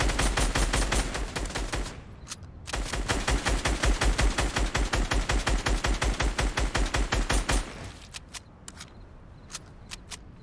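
Rapid video game gunfire in Fortnite, a dense, loud stream of automatic shots lasting several seconds with a brief pause, then a few scattered single shots trailing off.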